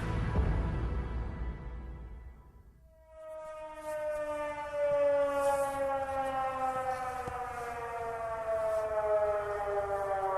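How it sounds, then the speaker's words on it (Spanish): Venice high tide warning sirens sound over the city, a rising mechanical wail that swells into a sustained, layered multi-tone blare after a brief quiet gap, heard from a distance and carrying on steadily. "El silencio se ve interrumpido por el sonido de las sirenas."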